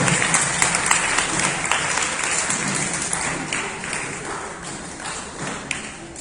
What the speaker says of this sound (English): Can you have a big round of applause to them also?